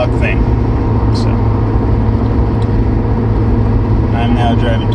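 A car driving to work on a rainy morning, heard from inside the cabin as a steady low engine and road rumble that runs unbroken throughout, with a few faint clicks and squeaks on top.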